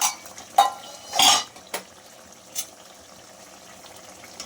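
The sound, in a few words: lid being taken off a cooking pot of curd fish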